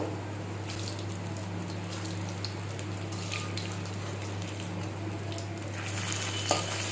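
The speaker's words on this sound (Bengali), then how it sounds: "এখন মুইটাগুলো ছেড়ে দেবো বেশ লাল লাল করে ভেজে দেব" Soybean muithya dumplings fry in hot white oil over a low flame, giving a soft, even crackling sizzle over a low steady hum, with a few brief pops and clinks near the end.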